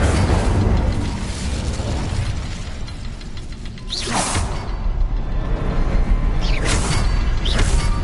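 An Incendio fire spell cast in Hogwarts Legacy: whooshing bursts of flame erupt twice amid a rumbling, mechanical game ambience, loud and close.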